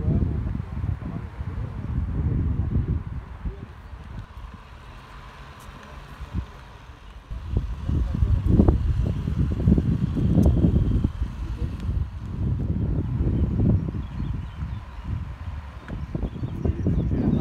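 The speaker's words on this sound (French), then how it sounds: "parce que avec le vent qu'il y a" Gusty wind blowing outdoors on a lakeside morning where radio-controlled boats are sailed, buffeting the microphone in loud low rushes that rise and fall throughout.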